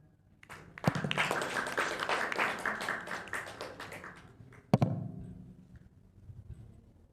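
An audience claps for group 8 after a student performance of the Hikayat Panji Semirang. A sharp clap opens a burst of applause that lasts a few seconds and then fades. A second smack brings a short, fading patter.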